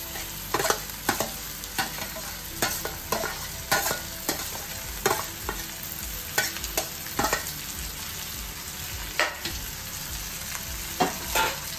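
Mashed Jalgaon eggplant frying in a hot pan for Khandeshi bharit, with loud close sizzling and repeated rhythmic stirring and scraping strokes throughout.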